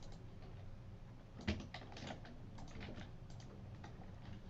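Typing on a computer keyboard during a program tutorial, a steady run of soft, rapid key clicks with one sharper tap, close and continuous, with no talking.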